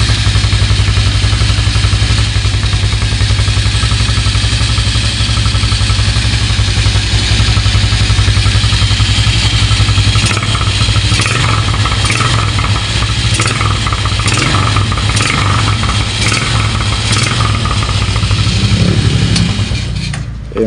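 A Motorstar motorcycle engine runs at idle close by, a loud, steady mechanical drone with a light clattering tick that holds evenly throughout with no talking.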